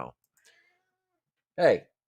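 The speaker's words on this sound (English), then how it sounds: "That's the 22-pound Norwegian forest cat." A large 22-pound Norwegian forest cat gives one short, clear meow near the end, preceded by a brief voice fragment and mostly quiet room tone.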